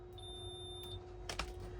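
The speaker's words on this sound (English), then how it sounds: "We're going to get a blip, like a beep, and then it'll drop down to an actual resistance measurement" A multimeter gives a short, thin electronic beep while measuring resistance on a 1985 Toyota MR2's Matsushita car stereo, followed by quiet background hum and a couple of faint clicks.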